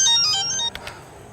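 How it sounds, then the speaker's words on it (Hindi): A phone rings with a bright electronic tone that plays for about half a second and then cuts off abruptly, leaving only faint room noise. "इस वक्त किसका फोन आ रहा है?"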